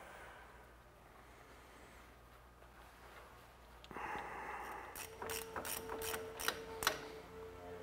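A ratchet tightens a bolt on an aluminum Hall effect speed sensor on a Polaris Sportsman, giving several close, sharp clicking bursts after a quieter stretch.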